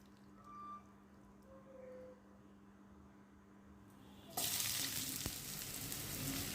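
Chopped onion tipped into hot oil with whole cumin seeds sets off a sudden loud, bright sizzle partway through, after a quieter stretch of faint frying and kitchen hum.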